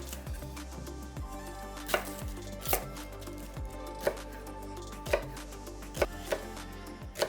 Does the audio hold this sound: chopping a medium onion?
yes